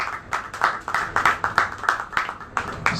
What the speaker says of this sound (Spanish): Dale aplauso al Rey, dale aplauso al Rey